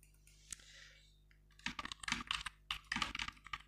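Computer keyboard typing in quick, irregular bursts of clicks, sparse at first and then dense and steady, close by and alone with no voices.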